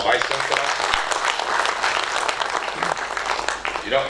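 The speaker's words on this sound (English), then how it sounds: "Another round of applause for our Vice Chancellor." Audience applause for a university Vice Chancellor at a research week event, dense steady clapping from a hall crowd lasting throughout, loud and continuous.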